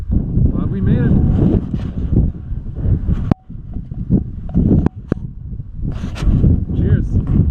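Strong wind buffets the microphone on a foggy mountain hike near Denver in spring, a steady low roar with gusty surges and occasional sharp knocks, and no clear voices over it.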